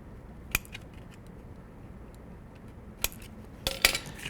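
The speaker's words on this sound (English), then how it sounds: "Now what I'm going to do is I'm just going to snip to that mark on both sides." Vinyl siding window trim being cut with hand snips: a few sharp, isolated metallic snips spaced across a quiet room, one early, one midway and a quick cluster near the end.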